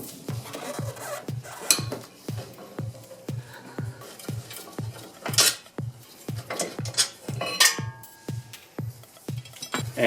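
A wrench clicks steadily while brake mounting bracket bolts come off a Scion tC: a rapid, even run of sharp metallic ticks close up, with a few louder clanks mixed in.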